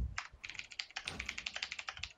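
Rapid, steady typing on a computer keyboard during a Smite arena match: about twenty crisp keystrokes in quick succession, close up and on their own with no talk.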